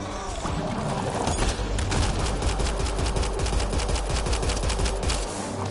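Sustained rapid automatic gunfire from the video game Lotus Effect Alstroemeria, a loud continuous rattle of closely spaced shots running throughout with a little echo.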